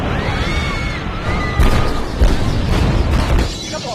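A bomb blast tears through a shopping mall in the action film Police Story 2, loud booming bursts with crashing debris and smashing glass, layered over dramatic film sound and voices.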